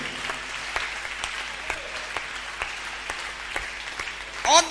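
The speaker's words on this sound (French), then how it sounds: "Acclame Jésus." A church congregation at a Sunday service claps steadily and fairly loudly throughout, and a voice is heard briefly at the very end.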